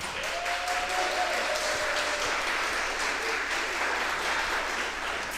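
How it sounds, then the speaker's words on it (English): Audience applause at an elementary school fourth grade Step Up ceremony, a steady wash of clapping from a seated crowd in a hall, with a faint tonal whistle or voice early on. "Let's give our scholars a round of applause"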